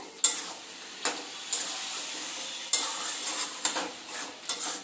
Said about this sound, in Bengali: আবার একটু সুন্দর করে নাড়াচাড়া দিয়ে নেব